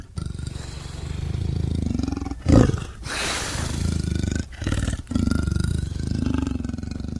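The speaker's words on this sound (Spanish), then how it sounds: "¿Cómo suena un leopardo?" A leopard gives a series of rough, rasping roars in bursts, loud and close, separated by short pauses with no talking.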